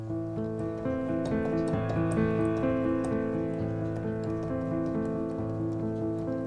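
A repeated keyboard pattern played on white piano keys, shifted lower with the hand moved left, ringing steadily with layered sustained notes and no voices, from a restaurant improvisation.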